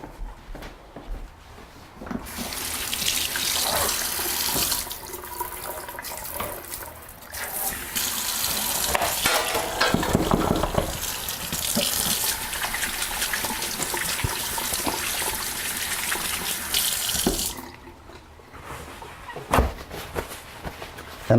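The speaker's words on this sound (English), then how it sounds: "And while that's going on, I'm going to wash my hands again." Tap water runs steadily into a sink while hands are washed, a continuous broadband splashing that holds for most of the stretch, drops away briefly near the end, then resumes.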